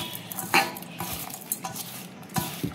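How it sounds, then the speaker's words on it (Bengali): A small shrimp fritter batter is mixed in a bowl, with a spoon clinking and scraping against the dish in quiet, irregular strokes and one sharper knock. "এবার এটা একসঙ্গে আমি মিশিয়ে নিই"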